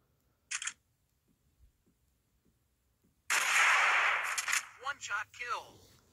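A sniper rifle fires in the Hunting Sniper video game, with a short sharp click, then a loud sustained blast that trails into fluttering echoes, close and dominant over near silence.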